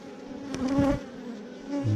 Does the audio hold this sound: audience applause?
no